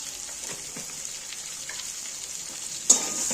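Potatoes and cauliflower with roasted spices crackle and sizzle in a pan close up while being stirred, ending with a sharp clank of the spoon against the pan.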